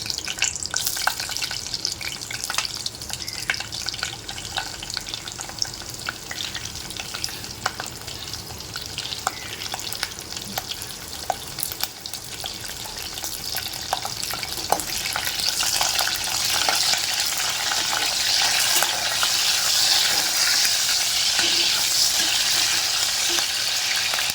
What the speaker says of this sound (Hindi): अब ये पहले मैं मिर्ची को थोड़ा फ्राई करके निकाल लूँगी